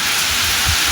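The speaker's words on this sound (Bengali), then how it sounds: "ঝড় হচ্ছে, ঝড় বৃষ্টি।" A sudden night storm drives strong, cold wind with rain in a loud, roaring, broadband rush close to the microphone. It stays steady through a brief moment with a low buffeting rumble beneath.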